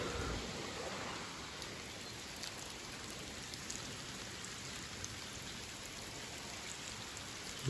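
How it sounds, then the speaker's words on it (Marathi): Steady rain falling outdoors in a Konkan village near a river, a soft even hiss of drops on surfaces, moderately distant and continuous with no voices. "पाऊस लागून गेला आताच"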